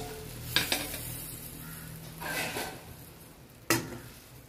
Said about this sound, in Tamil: ஈரல் நல்லா வதங்கட்டும்